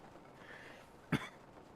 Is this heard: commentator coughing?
yes